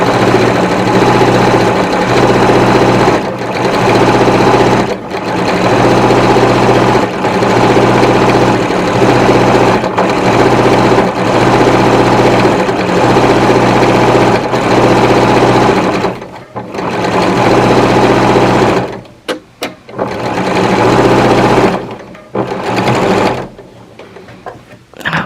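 A sewing machine runs loudly and close while stitching sleeves into a linen shirt, its needle chattering in long continuous bursts that pause briefly near the end, then start again in short stops and starts.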